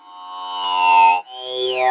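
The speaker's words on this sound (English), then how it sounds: "This is the sound of the 2HP vowel." 2HP Vowel Eurorack module driven by a Krell patch produces a sustained, buzzing synthetic vowel tone that swells in loudness, briefly dips, then glides downward in pitch, heard alone and up close.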